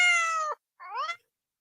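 Two cat meows, close and clear: a long steady one, a short pause, then a shorter rising-falling cry, with no talking over them.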